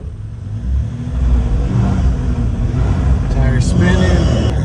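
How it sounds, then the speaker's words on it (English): A Jeep Gladiator with a rear locker fault revs its engine hard while a tire spins, a loud, continuous roar that swells and holds throughout. "Tire spinning."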